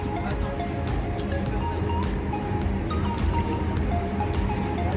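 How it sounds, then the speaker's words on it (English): Water from a public drinking fountain runs and trickles steadily on a hot day in Cascais, a continuous splashing wash that holds at an even level throughout with no talk over it. "We've just found the water fountain."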